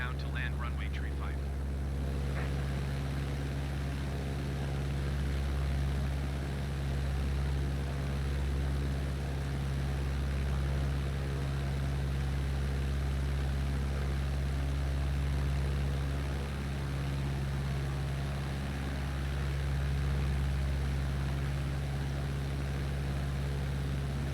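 Small aircraft engine droning steadily in flight on a landing approach to Scarborough, UK, a loud, constant low hum with a faint whine above, heard from inside the cabin with speech over it.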